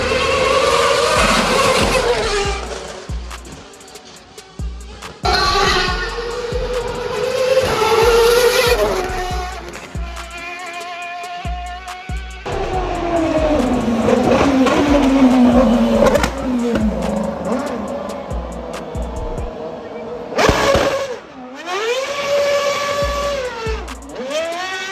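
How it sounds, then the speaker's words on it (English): A Red Bull RB7 Formula 1 car with David Coulthard at the wheel roars through the streets of Mumbai, its engine revving and downshifting repeatedly, loud and close, with sharp rising and falling pitch sweeps and no talk. "Just feathering the throttle in the RB7 was like ripping a hole through the universe"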